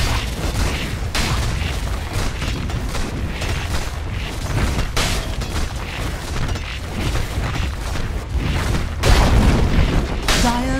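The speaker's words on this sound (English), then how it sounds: "Middle tower has fallen." A Dota 2 tower collapses in a loud, rumbling explosion, part of a continuous dense din of boomy in-game combat that swells toward the end.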